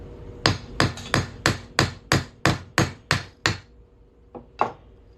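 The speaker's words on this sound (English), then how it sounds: "let's hammer this on through." Sharp metallic hammer strikes on an 1882 Morgan silver dollar land in a steady run of about ten blows, then a short pause and two more hits, close and loud with no talking.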